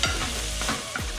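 Vegetables for kimchi instant ramen sizzle and scrape in a hot pan as they are stir-fried, a steady frying hiss with a few clanks of a utensil against the metal.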